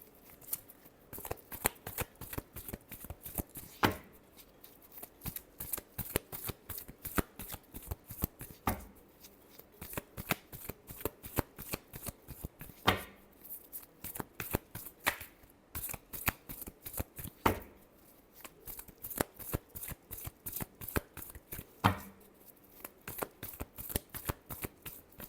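Tarot cards are shuffled over and over, a rapid crisp riffling that comes in dense flurries with short gaps between, close and fairly loud, with no talking.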